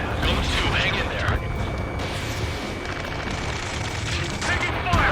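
Dense gunfire in the Ace Combat 7 video game, with rapid bursts of shots and mechanical clatter filling a busy battle mix, loud and nearly continuous, while radio voices shout over it.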